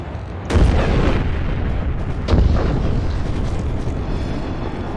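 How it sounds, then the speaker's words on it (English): Heavy artillery bombardment in Mecha Knights: Nightmare, two big booming impacts about two seconds apart over a rumbling, roaring backdrop of continuous shelling. "Requesting bombardment on designated area."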